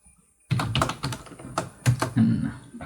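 Computer keyboard typing during a Python coding lesson: a burst of clicky keystrokes in quick irregular runs, close and clear, with no talking.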